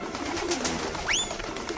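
Pigeon in the video game Jazzpunk giving a single short rising call partway through, clear and fairly close over a low background hum.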